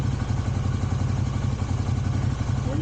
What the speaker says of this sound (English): When you can get them to idle down like that, you know you've got good vacuum and a good engine